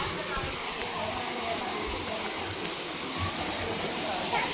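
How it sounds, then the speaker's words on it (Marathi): Chander waterfall near Masure village by Malvan pours muddy water in a steady, broad rushing roar that holds constant throughout, with voices talking over it. "धबधबा तर वाहता पण पाणी खदुळा"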